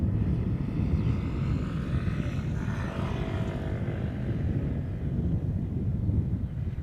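A United heavy jet at Schiphol Airport, a steady low rumble of engine noise with wind on the microphone, continuous and moderately distant throughout.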